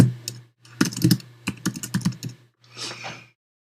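Someone types a message on a computer keyboard in quick clustered bursts of close key clicks, with a brief pause and a softer final flurry, no voices.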